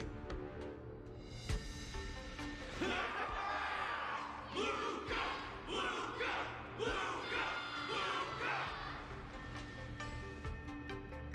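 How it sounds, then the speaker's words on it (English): Crowd in Honkai Star Rail cheering for Luka after his bout with Yanqing, a rolling wave of shouts and whoops rising and falling in bursts, with game voices over the din. "Everyone's cheering for you, Luka."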